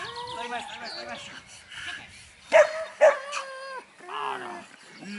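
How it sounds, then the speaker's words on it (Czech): A dog at protection training yelps and whimpers in short high bursts, with two sharper barks in the middle, heard close under people talking nearby. "to je pes."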